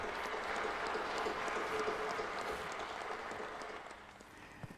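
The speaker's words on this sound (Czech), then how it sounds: "tady je ten správný potlesk" Crowd applause from a political gathering, a steady dense clatter of clapping sustained throughout and tapering slightly toward the end.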